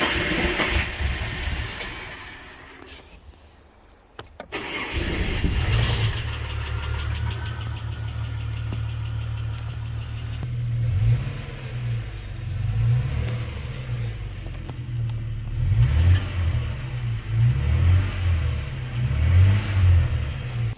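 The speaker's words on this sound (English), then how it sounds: "I've got the AU all done, it's ready, it's running" A Ford Falcon AU engine, recently repaired, running close by with a steady low rumble after a brief dip, then swelling into rougher, louder revving pulses toward the end, no voices.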